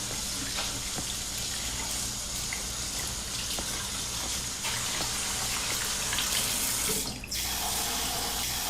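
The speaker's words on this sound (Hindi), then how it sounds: "मैंने तुम पे पानी उड़ाया।" Water splashes steadily onto a person in a dubbed drama scene, a continuous rushing, gushing wash that stays loud and close for several seconds with no voices over it.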